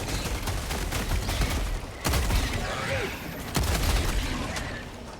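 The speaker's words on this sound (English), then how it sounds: "Throwing grenade." Grenade blasts in Helldivers 2 during a solo fight against Terminids, heavy booms standing out amid continuous dense combat noise and chatter of gunfire, with a voice talking over the action.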